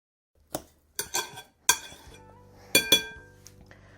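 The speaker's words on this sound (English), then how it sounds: "So I think we're going to be okay with just kind of mixing it with a fork and some tongs" Meatloaf mixture worked with a fork and tongs in a bowl, giving sharp metallic clinks and scrapes in scattered bursts, close and clear with quiet moments between strokes.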